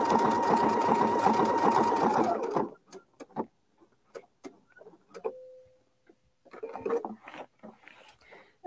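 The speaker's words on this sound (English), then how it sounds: "And then we're going to stitch to this point." A sewing machine with a circular attachment stitches in a rapid, even whir for about two and a half seconds, then stops. Scattered clicks and handling noises follow before another short burst of sound.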